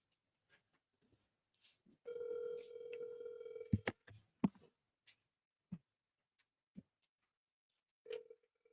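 A phone call rings while waiting for an answer, a steady electronic ring tone of about two seconds, followed by scattered clicks and soft noises in a quiet room.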